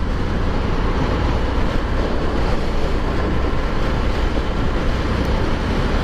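Loud, constant wind buffeting and roar while riding a Harley-Davidson Sportster S at speed, a dense rushing noise with no breaks and no voices.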